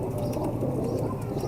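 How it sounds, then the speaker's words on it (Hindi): Male Ferozpuri pigeon cooing softly and steadily up close, a low murmuring coo that carries on without a break over a faint background hum. "ये नर कबूतर है माशाल्लाह से"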